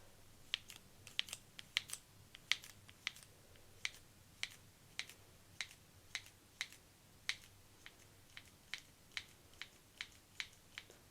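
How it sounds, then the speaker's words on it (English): Scissors snip repeatedly at a duck's feathers in close, crisp clicks, one every half second or so, over a quiet background with no talk. "Okay, so I'll just make a start trimming this side first."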